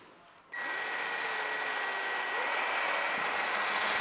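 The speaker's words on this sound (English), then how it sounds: "we're going to use this raw 610 extreme cut and this little woolly mop head on a little tiny battery powered polisher" Small battery-powered polisher fitted with a woolly mop head and cutting compound in a car restoration workshop, switching on after a brief quiet and holding a steady high whine up close.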